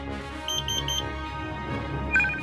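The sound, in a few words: crane proximity alert buzzer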